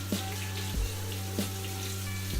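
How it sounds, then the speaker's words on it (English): Cool tap water runs steadily over beans being rinsed in a sink, a constant hiss and splash close by with a few brief clunks and knocks; no one speaks. "just regular cool water, rinse those beans, get everything off of them"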